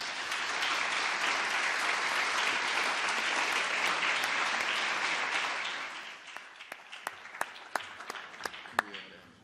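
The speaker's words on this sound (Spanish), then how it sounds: "Para todos ellos pido un fuerte aplauso" An audience at a judicial dialogue on the Inter-American human rights system bursts into a full, dense round of applause that holds steady, then thins into scattered individual claps before dying away.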